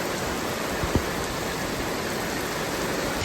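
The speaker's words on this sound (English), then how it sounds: "the rain has arrived." Steady rain pours down on a home construction site in Central America, a dense even hiss filling the air with one brief low thump near the start.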